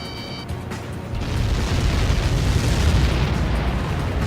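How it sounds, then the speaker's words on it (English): A huge blast from Helios projectile impacts in the Ace Combat 7 video game: a sudden loud, low rumbling boom swells after about a second and sustains as a dense, roaring explosion to the end. "How many got caught in that explosion?"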